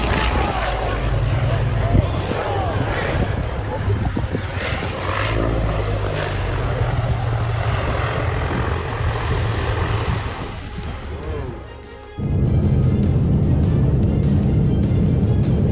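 A C-123 transport plane flying in strong, gusting wind, its propeller engines roaring loudly and steadily, briefly dipping before surging back; someone narrates over the engine noise.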